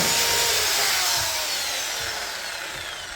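A handheld power drill bores through material during a Gen 1 to Gen 2 Raptor front shock conversion, a loud, steady broadband whir that runs the whole stretch and eases off slightly toward the end, with no talk over it.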